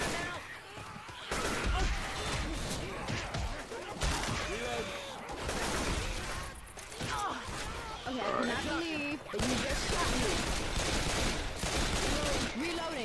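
AK-47 fire in Left 4 Dead 2 comes as dense, sustained volleys mixed with game noise, while several players talk over the shooting.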